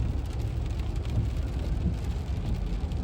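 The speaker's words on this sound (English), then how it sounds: "Lots of rain." Steady rain pours continuously by the Osage River and Truman Lake, a dense even hiss with low rumble underneath, no voices.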